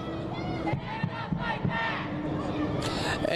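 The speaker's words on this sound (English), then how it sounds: "a little bit loud with this cheering going on" Protesters cheering and shouting on a highway, a dense, continuous crowd roar with scattered whoops and yells rising over it, fairly loud and sustained throughout.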